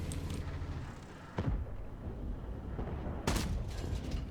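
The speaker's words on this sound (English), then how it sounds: "Shot in, took the 54's tracks off, but couldn't do enough." Tank cannon fire in World of Tanks, two heavy booming shots a couple of seconds apart over a constant rumbling engine and battle din.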